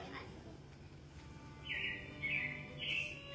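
Robins chirp in short, high repeated calls, three bright bursts over a quiet, hissy background, moderately distant.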